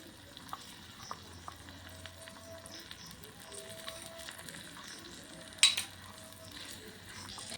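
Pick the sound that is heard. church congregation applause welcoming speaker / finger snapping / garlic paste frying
garlic paste frying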